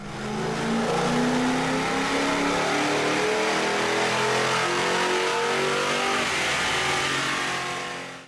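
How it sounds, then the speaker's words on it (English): A 2005–2010 Ford Mustang GT V8 fitted with BBK shorty headers, stock midpipe and mufflers roars through a sustained full-throttle pull on a dyno, rising steadily in pitch, loud and close, then easing off at the end. "Now let's see what these BBK headers do on the dyno."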